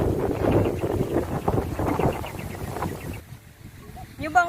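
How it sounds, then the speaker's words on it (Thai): Wind buffets the microphone on a yacht out at sea near a beach, a steady gusty rumble under people talking, dropping away near the end before a brief rustle. "ลมดี"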